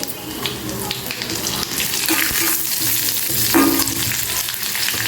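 Dried red chillies, cashews and curry leaves crackle and sizzle steadily in hot oil, a close and fairly loud frying hiss with occasional bursts, heard alone with no talking.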